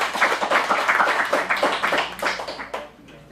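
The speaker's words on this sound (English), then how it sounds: "Round of applause." A small acting class claps after a teen script performance, a short burst of dense, close hand claps that thins out and stops after about three seconds.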